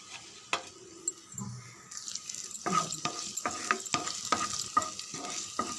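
Ginger, garlic, green chillies and curry leaves fry in hot oil, a bright steady sizzle that swells partway through, overlaid with repeated spoon scrapes and clinks against the pan, close by.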